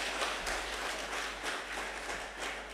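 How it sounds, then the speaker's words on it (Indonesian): Sustained applause from a gathered audience at a military anniversary thanksgiving ceremony, dense steady clapping filling the whole stretch without voices, moderately distant. "saya ingin semuanya kita sama-sama menggelar aplaus, tepuk tangan untuk kebersamaan kita yang sangat luar biasa"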